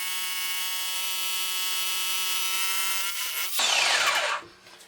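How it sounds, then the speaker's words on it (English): An SDS hammer drill bores through brick with a loud, steady whine for about three seconds, then shifts into a rougher grinding burst as the bit breaks through before winding down. "Once I've drilled through with this drill, I then need to drill through from the other side"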